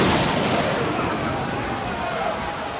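A violent storm of rain and hail in an Age of Empires 4 battle, a dense, loud wash of hissing downpour and rumbling noise that holds steady and eases slightly toward the end.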